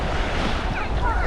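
Sea waves wash onto a beach in Misamis Occidental, a steady close rush of surf with wind buffeting the microphone throughout the short stretch.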